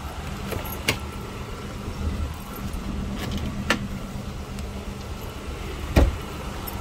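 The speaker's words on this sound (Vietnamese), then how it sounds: "Đó, cửa đóng siêu êm." A car door shuts softly with a muted low thud near the end, after a few light clicks, over a steady low hum from the car's air conditioning running nearby.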